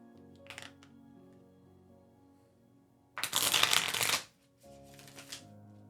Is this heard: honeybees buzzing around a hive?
no